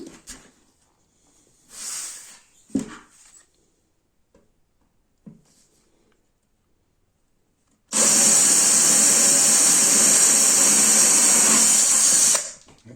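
A power drill bores into an 18 mm wooden board for countersunk screws, a single loud sustained whir of about four seconds after some quiet handling knocks and bumps.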